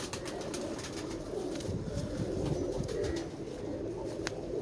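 A freshly caught pigeon coos in a steady low murmur close by, while its wings flutter and rustle in scattered bursts throughout; no one speaks.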